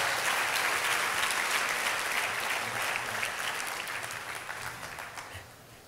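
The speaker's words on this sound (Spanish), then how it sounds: "Dale un fuerte aplauso al Señor." Congregation applauding during a church service, a steady, dense wash of clapping from many hands that starts loud and slowly fades toward the end, with no talking over it.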